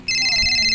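A loud electronic phone ringtone starts abruptly and holds a steady, high-pitched tone for under a second.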